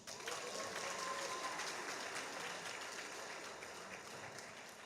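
Audience at the Kampala Writes literary festival applauds faintly in a steady, distant wash of clapping that slowly fades over several seconds.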